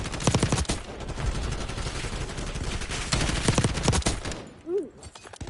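Dense video game battle gunfire crackles in rapid automatic bursts, loud and close, dies down into a few scattered shots near the end, with brief talking underneath.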